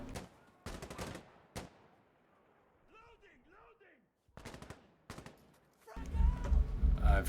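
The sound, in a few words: gunfire from a first-person shooter video game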